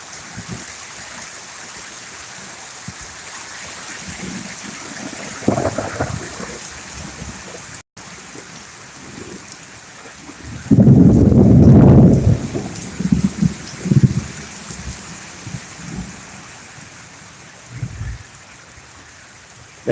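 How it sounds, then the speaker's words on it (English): A storm drives heavy rain in a steady wash, with a loud gusty surge of wind buffeting close by midway and further rumbling bursts after, no talking. "The rain is in and out"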